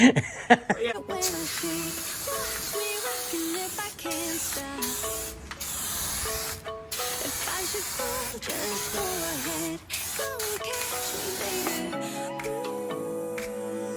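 Aerosol spray cans hiss in long bursts as paint goes onto a 1965 Mustang hot rod, the spraying continuous and close with brief pauses between passes, while a voice and light laughter come in and out.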